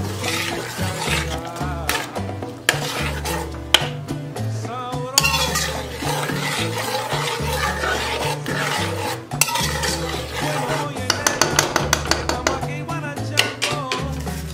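Rice being stirred together with calamares in a pot with a spoon, producing continuous loud scraping, rasping and clinking against the pot and then a quick run of rhythmic scrapes near the end, with no talking.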